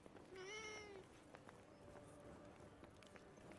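In the video game Forspoken, a cat lets out one clear meow over quick running footsteps and a low game ambience, all fairly quiet.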